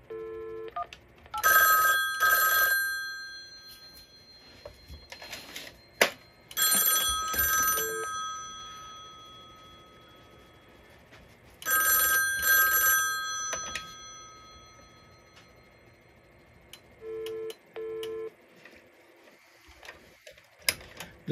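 A rotary telephone rings through a Panasonic KX-T308 key service unit intercom, giving three or four separate bursts of loud electromechanical bell ringing with quiet gaps and faint clicks between them.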